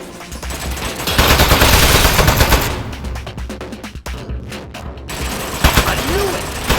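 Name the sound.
turret gunfire in the video game Aperture Desk Job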